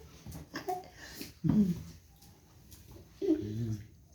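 Kabang, a pet dog at home, gives two short low whimpering or whining bursts a couple of seconds apart, close by, with quiet household sounds and some soft talk between them.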